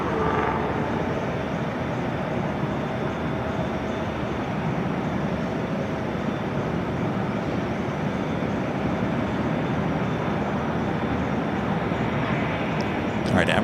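An Emirates airliner taxiing at Los Angeles International Airport produces a continuous, even jet-engine rumble and roar that holds steady throughout, with a faint brief click near the end.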